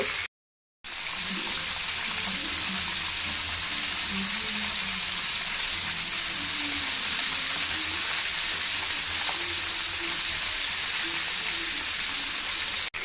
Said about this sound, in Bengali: চুলার তাপটা মিডিয়াম আঁচে রেখে চিকেনগুলো ভেজে নিব